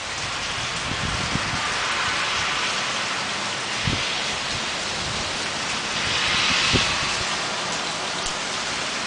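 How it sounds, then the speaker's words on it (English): Steady, heavier rain falls during a Southern California storm cell, a dense, continuous hiss of drops on surfaces with a few faint low rumbles underneath and no voices. "It's starting to rain a little heavier now."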